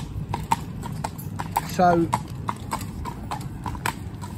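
Irish Draft mare's hooves clip-clop steadily on a town road as she is driven single, close and fairly loud, with someone talking over them and a brief squeak midway.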